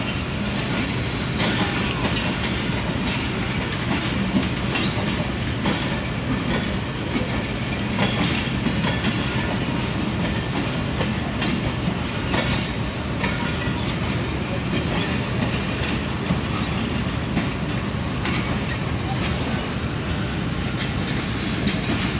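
Narowal passenger train on the Narowal branch line out of Lahore, with steady, dense rumbling and rhythmic clickety-clack of the rail cars throughout, continuous and close, with no speech.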